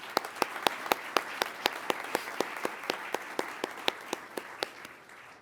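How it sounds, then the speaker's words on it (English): Applause for support groups at an Air Force undergraduate pilot training graduation, a steady rhythm of sharp, regularly spaced claps standing out over a softer bed of crowd clapping, easing slightly toward the end. "A round of applause for our support groups."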